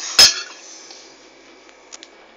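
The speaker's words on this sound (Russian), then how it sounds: "Ложим в тарелку, чтобы остывало." Boiled eggs set down on a plate while preparing for Easter, giving one sharp ceramic clink up close followed by faint rattles and two small taps as they settle.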